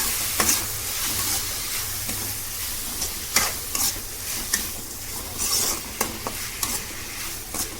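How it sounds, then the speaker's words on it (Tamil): Chopped tomatoes sautéing in a pan with ginger and garlic for a prawn gravy, a loud continuous sizzle with repeated scraping stir strokes, close up and free of speech. "இப்போ நம்ம கட் பண்ணி வச்சுருக்க தக்காளி ஆட், தக்காளி நல்லா வதங்கட்டும்."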